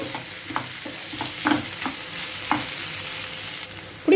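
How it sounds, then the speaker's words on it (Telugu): Potatoes and onions frying in a pan, lightly mashed and stirred, give a steady sizzle broken by regular spoon knocks and scrapes against the pan, close and clear with no talk. "ఒక్క నిమిషం ఫ్రై చేసేసుకుంటే సరిపోతుంది ఈ ఉల్లిపాయలతో పాటు"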